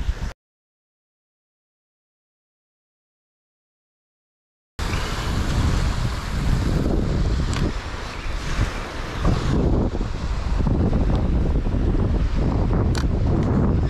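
Strong wind blows across an ocean beach, roaring into the microphone as a loud, continuous rush, with surf underneath, after a short gap of silence near the start.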